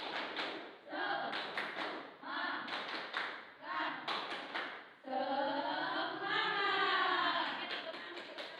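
A primary school class in Indonesia performs the rhythmic tepuk semangat clap together, bursts of hand claps and chanted voices alternating, loud and close, with children's shouting in the second half.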